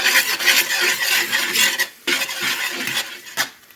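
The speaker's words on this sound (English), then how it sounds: "Stir that in." A spoon scrapes and rasps steadily around a pan while sour cream is stirred into a meal-prep dish, with a continuous close scraping texture and brief pauses near the middle and end.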